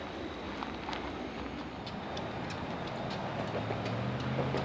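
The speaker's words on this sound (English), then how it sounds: "Leading today's train is fan-favorite CF&E number 3316, an EMD SD40T-2" CF&E EMD SD40T-2 diesel locomotive number 3316, built for the Southern Pacific, getting a westbound freight underway: a steady, fairly faint low rumble and hiss with light ticking, heard from a distance with no voices.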